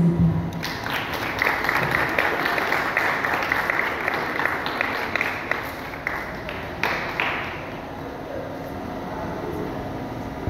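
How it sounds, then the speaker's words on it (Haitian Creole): An audience claps together at a political gathering in Haiti, a dense wash of applause that stays fairly loud for about seven seconds, then thins into scattered claps and murmuring crowd noise. "Maintenant, nous applaudissons chaud, merci."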